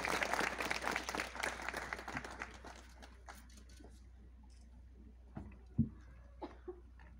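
Applause from an audience at a public signing event in support of preserving La Malinche park, dense at first then thinning and fading over several seconds into scattered claps and quiet background.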